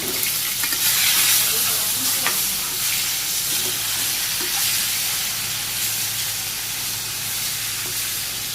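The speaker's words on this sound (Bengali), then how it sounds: "মাছ উল্টিয়ে দিই 1 মিনিট হয়ে গেছে" Fish rubbed with turmeric, chili and salt sizzles steadily in hot oil in a pan just after being turned over, a loud, continuous frying hiss with small crackles, heard up close and alone.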